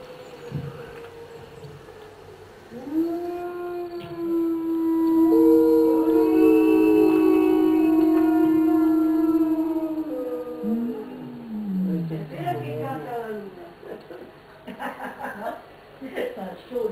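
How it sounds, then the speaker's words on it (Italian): Wolves howl in long, rising and falling wails while another pack answers from a distance, the calls overlapping and held for several seconds, with some laughter and murmurs around them. "Altro branco che risponde. Si parlano, no?"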